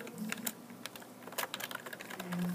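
A name typed on a computer keyboard: a quick irregular run of light, close key clicks with brief pauses between bursts, quiet and without voices.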